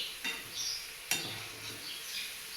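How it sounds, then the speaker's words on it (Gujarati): A soft, steady sizzle of dough pieces for laddoos frying in oil, with a couple of sharp clinks of a utensil against the pan. "મસ્ત તળે છે"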